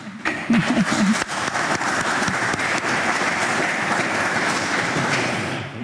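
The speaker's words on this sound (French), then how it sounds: "Applaudissements" Studio audience at a French television talk show applauding loudly and steadily, a dense wash of clapping that holds for several seconds, with a brief voice near the start.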